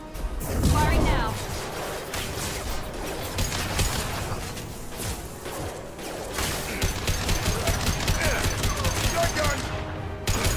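Sustained gunfire in the sci-fi shooter Mass Effect 2, a dense stream of shots and impacts running the whole stretch with a player's voice talking over the combat.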